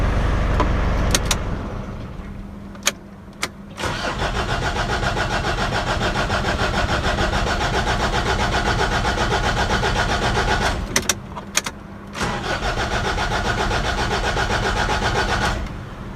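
A Mazda BT-50 or Ford Ranger pickup truck engine cranks and catches, then settles into a steady idle; it cuts off and restarts again near the end, loud and close with no talk.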